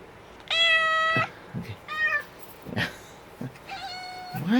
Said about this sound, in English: So we have another cat.